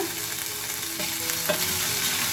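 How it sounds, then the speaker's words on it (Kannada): Ginger and garlic frying in a pan over a medium flame, a steady sizzle broken by a few stirring scrapes, close and alone with no voices. "ಮೀಡಿಯಮ್ ಫ್ಲೇಮಲ್ಲಿ ಇಟ್ಟು ಫ್ರೈ ಮಾಡ್ಕೊಳ್ಳೋಣ"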